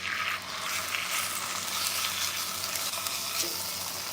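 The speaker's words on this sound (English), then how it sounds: "that's the nice sizzling sound I want to hear" Skin-on chicken pieces sizzle steadily as they fry in a hot pan for a creamy mustard sauce dish, a close, continuous crackling hiss with no talking.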